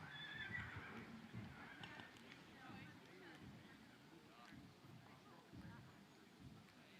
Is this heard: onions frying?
no